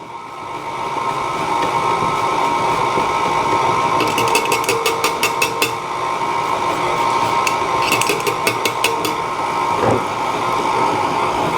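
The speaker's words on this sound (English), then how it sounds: "mixer on a low speed" A stand mixer whirs steadily on low speed through lemon buttercream, with bursts of rapid clicking or rattling from the beater against the bowl partway through.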